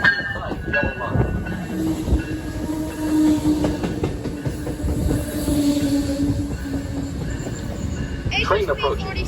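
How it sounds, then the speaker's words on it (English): Train pulling into the Pawtucket station on a rail line, a loud steady rumble of wheels and cars with a sustained tonal whine running through it, close by, with voices faintly in the background. "Train approaching. Please remain behind yellow line."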